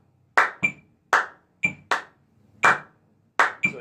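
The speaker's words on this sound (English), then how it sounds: "so now if I just clap those and I don't count, it sounds like this." Hand claps tap out a 4 against 3 polyrhythm: crisp, close, sharp claps fall in an uneven repeating pattern with short gaps, and no talk over them.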